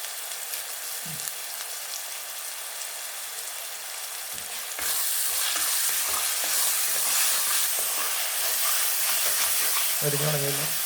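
Onions and curry leaves with salt sautéing in a pan, a steady close sizzle and hiss that swells louder partway through, with occasional stirring scrapes and a brief low voice near the end.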